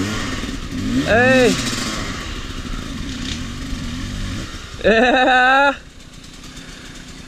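A dirt bike engine on a Hawaii riding trail rumbles steadily and twice revs up hard, once briefly and once in a longer rising burst, with a person calling out short words in between.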